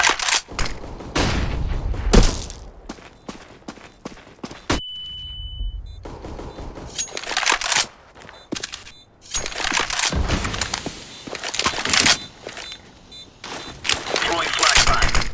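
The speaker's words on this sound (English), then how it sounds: "Deploying flashbang." Counter-Strike: Global Offensive match with loud bursts of gunfire and sharp bangs, a flashbang's high ringing tone, and clattering impacts, all under nearly continuous talk from players and game radio voices.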